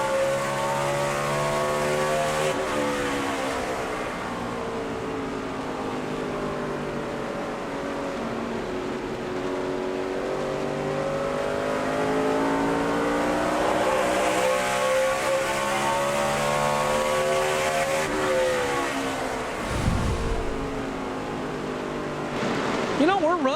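NASCAR Cup Series stock cars race at New Hampshire in a 2008 event, their engine drone steady and loud throughout, with harmonic pitch sweeping up and down as cars pass, and a brief deep rumble near the end.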